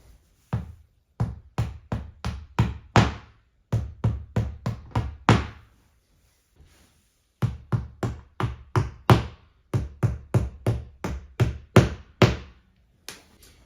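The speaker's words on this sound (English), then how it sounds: "Might need to hammer them in a bit to get them all the way in." Rapid bursts of sharp hammer knocks driving drywall anchors into a wall, in quick runs of several blows with brief pauses between, close and loud.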